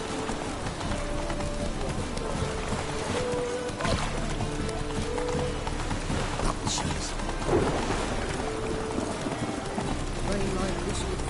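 Rain and thunder in The Witcher 3, with steady heavy rainfall, rumbling thunder and hoofbeats under a character's talk.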